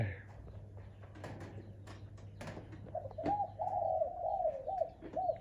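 Soft, hollow dove coos in a repeating phrase, rising and falling, over a low steady hum, with faint background noises early on.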